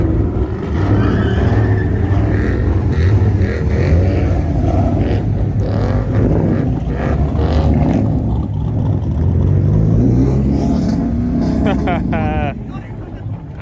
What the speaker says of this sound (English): I want to hear this Hemi thing take off, bro.